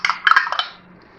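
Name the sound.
beating an egg in a bowl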